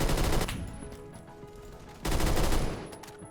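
Bursts of light machine gun fire in the Roblox shooter Phantom Forces: a loud sustained volley, a pause of about a second and a half, then a second rapid burst that tails off.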